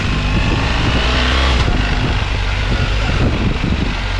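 BMW R1300GS motorcycle with an automatic gearbox accelerating and changing gear, a loud, steady engine roar heard close with brief dips where the gears shift.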